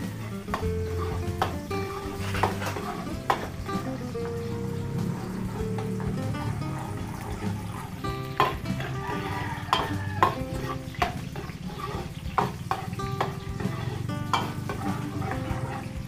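Garlic sautés in cooking oil in a Filipino home kitchen, a steady sizzle and crackle running throughout with occasional clinks and stirring scrapes from the pan.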